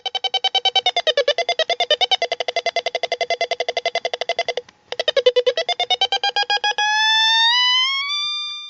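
Two cascaded 555 timer circuits make buzzy electronic square-wave tones. They pulse rapidly in a wavering, alternating pitch pattern, briefly cut out, resume, then shift into a steady tone that glides upward in pitch.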